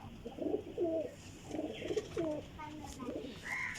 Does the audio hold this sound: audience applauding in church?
no